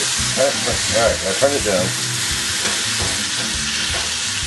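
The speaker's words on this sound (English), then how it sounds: "And now we're going to add the diced tomatoes." Diced tomatoes sizzling and frying in a hot pan for a meat loaf sauce, a steady hiss with stirring clatter, while a person speaks briefly over it.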